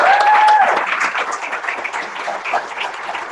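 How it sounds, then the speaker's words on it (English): An audience applauds after a presentation, a close, steady patter of many hands. The clapping starts loud and then gradually thins, and a brief tonal sound rises at the start. "Let's give a round of applause."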